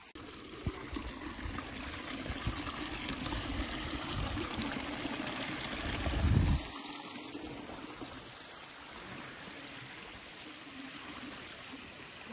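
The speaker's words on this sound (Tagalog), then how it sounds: "Ang tubig niya galing bundok." Mountain water in a stream at an eco park in Bukidnon flows with a soft, steady trickle and babble, faint and continuous, with a brief louder rush midway before settling back.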